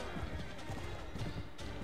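Horse galloping in the medieval combat game Mount & Blade: Warband, a steady rapid drumming of hoofbeats under ongoing talk and battle noise.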